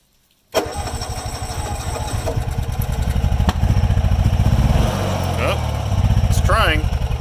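A gasoline generator engine is restarted after running out of fuel, kicking abruptly to life and settling into a loud, close, steady rhythmic chugging run, with a voice speaking briefly over it.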